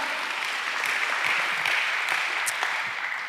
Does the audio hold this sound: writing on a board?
no